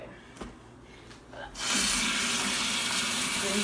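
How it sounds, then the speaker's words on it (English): Kitchen tap turns on and water runs steadily into a sink while a carrot is rinsed, a loud continuous close gush following a few soft handling knocks. "now I'm gonna wash the carrot and show you how I'm gonna do the carrot and the broccoli"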